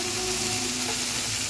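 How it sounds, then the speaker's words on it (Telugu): Onion and tomato sizzling steadily in a pan while being fried for groundnut chutney, a continuous close crackle with no talk. "ఆనియన్ కొంచెం ఫ్రై అయిపోయిందండి. టమాటాని యాడ్ చేస్తున్నాను. ఇప్పుడు టమాటా కూడా కొంచెం మగ్గేటప్పుడు ఫ్రై చేసుకున్నాము."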